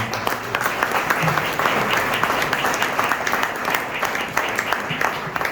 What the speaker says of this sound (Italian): due grandissimi a cui dedicherei davvero un grande applauso